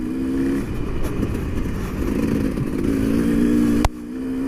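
A KTM motorcycle engine drones and revs on beach sand as the rear wheel spins, the steady engine note rising and falling under partial throttle with a sharp clack near the end, close and continuous.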